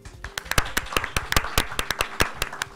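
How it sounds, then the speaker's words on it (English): A small live studio audience at a community event claps in sharp, separate, uneven claps. Individual hands stand out rather than blending into a dense roar, and there is no talk over it. "Clap, clap, clap, clap, clap."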